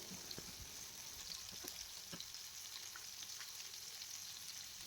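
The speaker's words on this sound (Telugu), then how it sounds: "ఫ్లేమ్ని సిమ్లో పెట్టుకొని ఒక ఫైవ్ మినిట్స్ పాటు వేయించుకోవాలి" Fish pieces frying in oil over a low flame, a soft, steady, even sizzle with scattered faint pops and crackles, fairly quiet and without talk.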